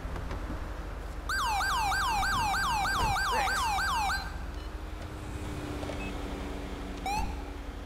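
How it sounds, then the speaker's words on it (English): Federal Signal Smart police siren in the video game GTA V, a fast repeating yelp wail that runs loud for about three seconds then cuts off, with a brief chirp a few seconds later. "we've changed out the siren using the Federal Signal Smart siren"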